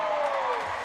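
Crowd cheering at a professional bowling match after a strike, a brief burst of massed shouts and whoops, loud and near with a rising voice cutting through.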